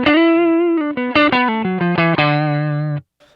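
Electric guitar through a Kemper with a compressor placed before a green screen overdrive, plays an even, sustained melodic phrase of bending and sliding single notes ending on a held low note, loud and alone.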